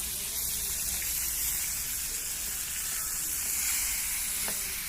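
Radish pieces frying in a pan for a village home-cooked meal, giving a steady, close hiss and crackle that holds evenly throughout, with no voices over it.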